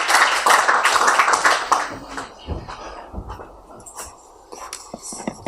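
Audience applause at a talk welcoming a Nigerian activist, loud scattered clapping at first that thins out into a few sparse claps and hall noise.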